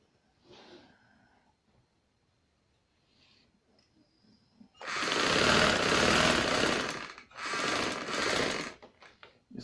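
An electric sewing machine stitches the lining of a bridal maxi in two loud bursts of rapid whirring, one about four seconds long and a shorter one after a brief pause, with quiet handling sounds before.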